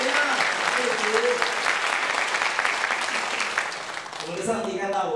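A congregation claps loudly and steadily at a Presbyterian church's Sunday worship service, a dense wash of applause that dips briefly before a voice speaks over the tail end.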